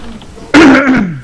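A man clears his throat once, loud and close, a short rough rasp that fades quickly, with no talk around it.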